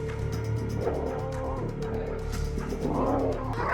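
Hyenas snarling, growling and yipping while mobbing a lion that has seized one of their clan, a dense, close, overlapping tangle of animal snarls and cries with no talking.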